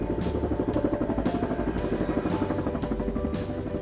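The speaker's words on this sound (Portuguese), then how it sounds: "Este é um helicóptero." Helicopter rotor chopping in a fast, steady rhythmic beat over an engine whine, fairly close and continuous, with no voices.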